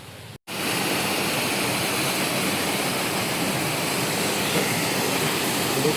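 Water gushes through a breached section of the Rampa canal, a loud, steady, broadband roar that holds unbroken and close after a brief gap at the start.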